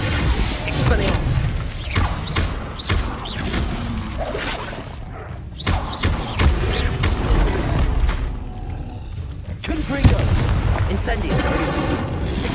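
Spell blasts in Hogwarts Legacy: a series of booming, explosive impacts and bursts in quick succession, loud and close, mixed with a voice shouting incantations over the action.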